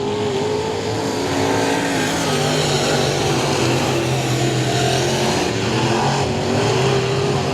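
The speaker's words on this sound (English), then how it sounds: "Revving up those engines coming out of turn 4." Dirt track race car engines at I-37 Speedway in Texas revving hard, a loud continuous roar of several engines with rising and falling whine, close and dense throughout.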